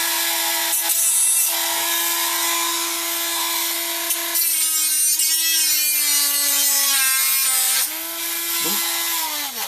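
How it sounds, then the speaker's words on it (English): A Dremel rotary tool cuts the end piece off a handmade trophy with a loud, continuous whine. The pitch drops and wavers as the tool bites under load, with rough scraping bursts partway through. "Right, Dremel this end bit off."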